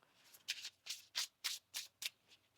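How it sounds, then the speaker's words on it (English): Tarot cards shuffled by hand in a steady series of about seven crisp riffling bursts, close and fairly quiet, with no voice over them. "One more shuffle here."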